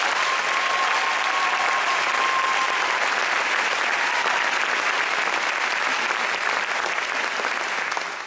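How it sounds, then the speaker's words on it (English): Loud, steady applause with some crowd noise fills a school ceremony hall as a founding class of graduates is honored, continuous and even for the whole stretch. "So how about another round of applause for Team's founding class?"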